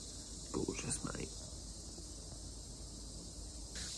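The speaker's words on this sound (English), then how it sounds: "cicadas, bugs," Steady high-pitched droning of cicadas and other insects fills the background throughout, with a brief burst of quiet talking near the start, on a morning in northern Thailand.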